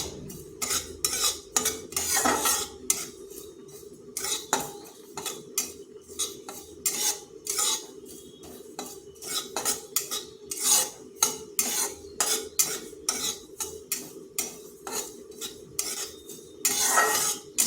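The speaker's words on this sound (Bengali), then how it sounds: "পোস্তটাকে হালকা একটু ভেজে নেব।" Poppy seeds being lightly dry-fried in a pan, heard as a long run of rapid metal spatula scrapes and clinks against the pan, close and rhythmic, with only a faint sizzle beneath.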